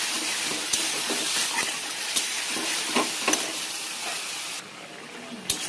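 Spice masala fries with chopped tomato in a pan for a potato, pointed gourd and prawn curry: a continuous crackling sizzle broken by sharp clinks and scrapes of a stirring spoon against the pan.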